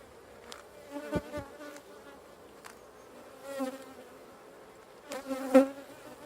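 Honey bees from young, not very strong swarms buzz around an open hive, a soft, continuous droning hum with a few closer buzzing passes swelling and fading.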